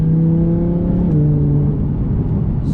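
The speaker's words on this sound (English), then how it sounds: "the transmission is so fast at shifting" An Audi R8 V10 Performance accelerates hard with a fast gear shift, its loud engine note climbing steadily, briefly dipping at the quick change, then climbing again, close and continuous.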